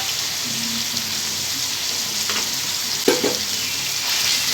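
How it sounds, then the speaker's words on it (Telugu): Chopped onions frying in a pan for a chana dal onion curry, giving a steady, bright sizzle with a few soft stirring scrapes and one sharper knock near the end, close by with no talking. "మొత్తం అంతా కలిపేసి మంచిగా దీని అంతా ఫ్రై అవ్వనివ్వండి ఉల్లిపాయలు అనేవి మంచిగా కుక్ అవ్వాలండి"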